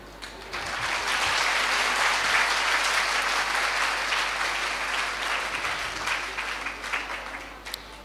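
A Hindi poetry gathering audience breaks into loud, dense applause, a sustained wash of many hands clapping together that swells quickly and holds for several seconds before thinning out near the end.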